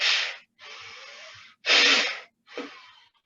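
Forceful nasal breaths driven by the diaphragm in a gentle morning breathing exercise, four sharp exhalations through the nose in an even rhythm, close and fairly loud, with no talking.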